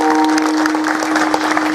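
An audience claps in a steady, rhythmic pattern at a kirtan, loud and close, with a sustained droning tone running underneath.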